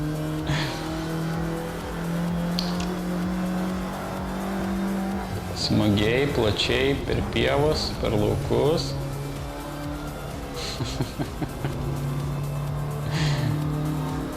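Virtual race car in a racing video game, engine droning steadily with revving and tire squeal bursts in the middle, running under continuous talk.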